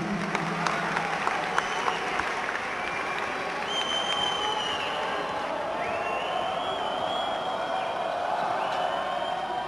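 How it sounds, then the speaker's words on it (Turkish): Spectators at a Turkey versus Greece under-18 European Championship basketball game applaud, steady clapping filling the arena with a few sharp squeaks and scattered calls beneath it. "İyi ki kaçtı. Alkışlar Doğuş için."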